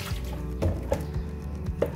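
Water splashing and dripping as a container is filled for washing a car, with soft irregular drips and small splashes close by, low in level.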